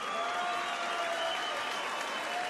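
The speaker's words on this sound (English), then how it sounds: "a round of applause for two warriors." A boxing crowd applauds after a hard-fought professional bout between Jamie Conlan and Junior Granados, a steady, dense roar of clapping and cheering from a large arena audience that holds evenly throughout without pause.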